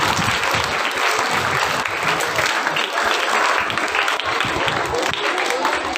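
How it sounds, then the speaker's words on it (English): Applause from the audience at a school festival, a loud, full crowd clapping that runs steadily for the whole stretch, with faint voices mixed in. "Let's give our management a big round of applause."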